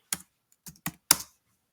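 Four quick, crisp keystrokes on a computer keyboard, heard alone and close up, with short gaps between them in a quiet room.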